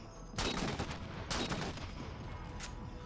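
Gunfire in Halo 4 Spartan Ops against hunters: three loud broadband bursts of shots at about half a second, one and a half, and two and a half seconds, over steady game ambience.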